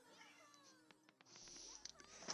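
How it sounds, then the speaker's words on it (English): A house cat meows to be let in, several short cries close by over a faint background of video game music. "Just have to let my cat in."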